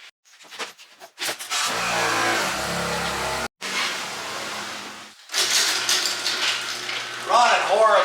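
A Nissan Altima with a cylinder 3 misfire runs rough up close. Its engine revs in loud, uneven surges, with a sharp cutout and a rattly idle between them.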